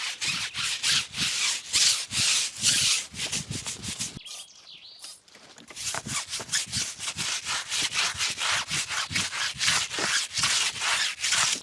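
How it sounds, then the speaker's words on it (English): A brush with Carpro Reset scrubs the tires of a BMW i4 M50 in fast, rhythmic, close strokes, which pause briefly before the scrubbing resumes. "I'm gonna work on the tires, Carpro retire, give it a good scrub down."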